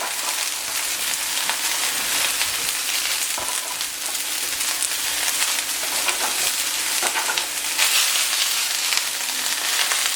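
Zucchini cooking in a hot pan gives a continuous, close crackling sizzle with steady spitting, heard alone.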